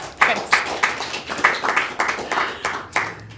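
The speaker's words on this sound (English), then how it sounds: "How about a round of applause for Cara?" Small audience giving a round of applause to a participant at a live talk on workplace frustration, a sparse group clapping in distinct rhythmic bursts, fairly close and loud.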